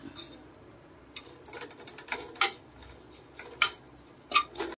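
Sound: stirring neem flowers roasting in a pan with a ladle

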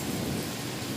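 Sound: heavy unseasonal rain and hail

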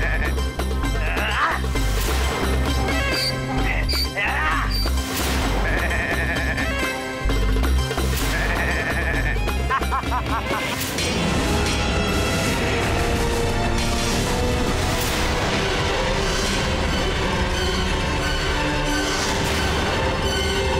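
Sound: goats bleating

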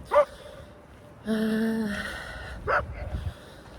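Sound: dog barking

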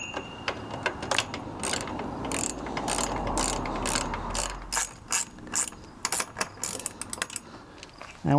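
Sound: tightening a nut onto an ATV trailer hitch

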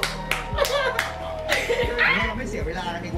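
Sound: applause for a new contestant

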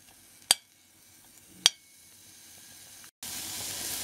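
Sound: peppers and onion stewing in a pan

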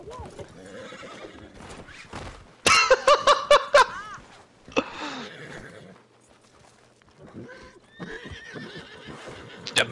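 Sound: horse neighing and galloping in video game Red Dead Redemption 2

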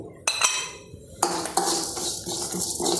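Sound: pan clinking while dry-heating fenugreek and mustard

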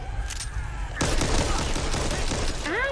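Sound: gunfire in the video game Back 4 Blood

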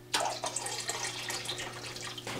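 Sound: water pouring into fish quarantine tank

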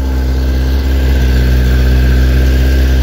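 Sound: Kawasaki ZX-10R motorcycle engine idling while warming up

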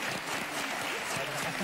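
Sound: applause

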